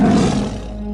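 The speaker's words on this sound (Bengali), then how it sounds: "ওই দেখো, বাঘ ডাকছে এবার।" A single deep tiger roar sounds in the jungle, one loud, close growling burst that fades over about a second.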